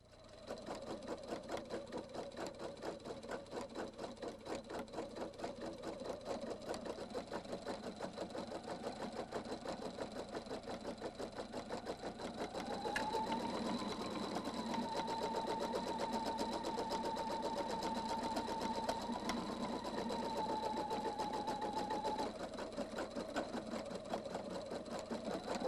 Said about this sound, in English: Touch Rotate again to sew the design in the lower right corner of the hoop.